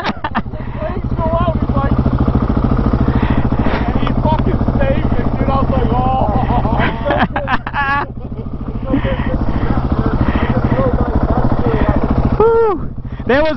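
A motorcycle engine drones loud and steady throughout, heard close as from the rider's position, while people talk over it almost the whole time.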